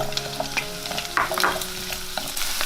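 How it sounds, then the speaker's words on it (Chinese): Scallions and ginger stir-fry in hot oil in a wok, with steady sizzling broken by scraping and tossing strokes of a spatula, close and fairly loud, and no talk. "接着把葱跟姜放进来"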